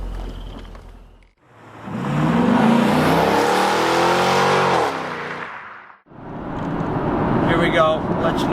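A Corvette C5 convertible accelerates hard, its engine note climbing through a long rising pull before a brief lift, then building again, loud and close from inside the car.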